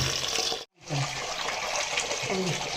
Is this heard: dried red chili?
no